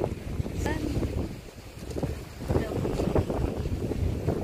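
Gusty wind buffets the microphone with a low rumbling roar, rising and falling, while faint voices are heard underneath.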